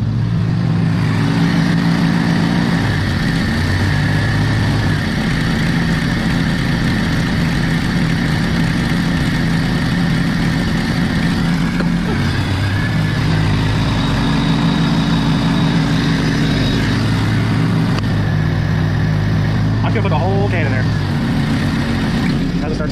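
A smoky old Jeep Cherokee engine fires up and settles into a steady, rough idle that runs close and loud throughout, with a brief change in tone partway through and a voice talking over it.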